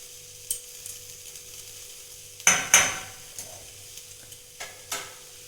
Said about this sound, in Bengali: এতে এবার আমি খুব ভালো করে নেড়ে নেবো